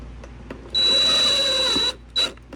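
A power drill drives a screw into a fabricated 3x4-inch exhaust offset, one steady whir of about a second followed by a short second burst, close and loud with no talk.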